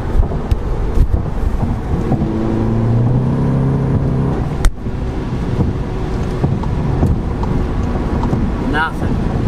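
Volkswagen MK7 GTI running a JB4 tune, accelerating hard in fourth gear with a slipping clutch: a steady engine drone with wind rush, held at a fairly even level for the whole pull and briefly interrupted midway.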